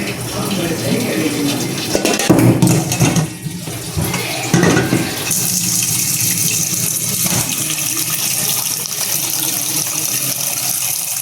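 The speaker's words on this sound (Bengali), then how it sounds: "গরম পানিটা ফেলে দেবো, একটু ঠান্ডা পানি দেব।" Water gushing from a tap as hot water is poured off boiled duck eggs and cold water added, a loud continuous splashing rush with brief clattering of a pot partway through.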